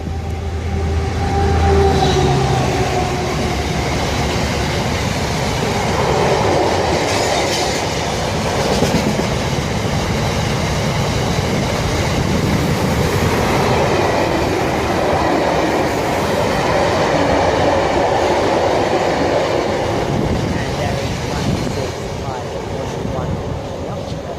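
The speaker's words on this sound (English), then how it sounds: "coming at great speed is a 59 for Hanson" A Class 59 freight locomotive hauling wagons rushes past at high speed on the line at Southall, with a loud, sustained roar and rhythmic clatter of wheels on rail that stays close and steady throughout.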